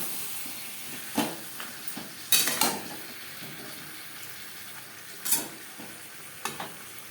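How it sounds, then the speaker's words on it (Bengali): Potatoes stirred with spice paste, salt and turmeric in a pan for a garlic-free rui fish curry, a low steady sizzle broken by several sharp spoon scrapes and clacks against the pan; no voices. "আলুর সাথে মশলা ও লবণ হলুদ বেশ ভালো করে মিক্সড করে দেবো"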